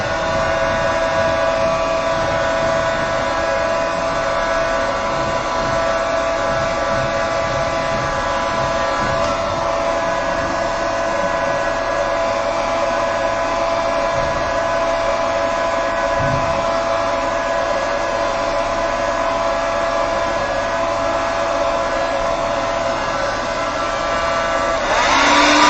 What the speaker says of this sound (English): I just give it a little dry with a hairdryer